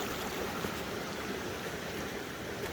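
A mountain stream on the John Muir Trail rushes steadily on a rainy day, a constant broadband wash of flowing water close by, with no voices.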